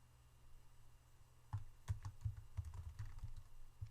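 A feature class name typed on a computer keyboard in a lab software session: quiet room tone, then a steady burst of close, fairly soft key taps.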